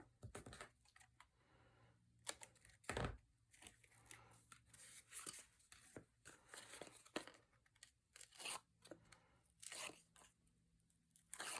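Crinkling and tearing of foam tape being peeled and pressed onto paper cut from a 12 by 12 sheet for a beach-themed pennant banner, a run of close, sharp crackles and rips at uneven intervals.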